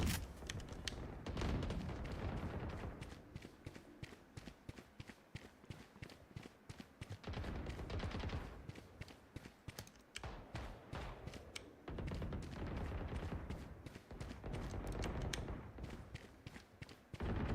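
Gunfire in a shooting video game rattles in quick, sharp bursts separated by short pauses, fairly faint overall, with runs of rapid shots clustered across the stretch.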